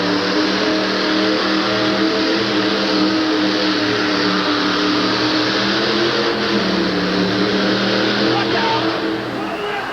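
A monster truck with a twin-blown Hemi engine of about 1,700 horsepower and four-wheel drive roars continuously at a 1988 USHRA event in Hartford, a loud sustained rumble heard from a distance over arena crowd noise.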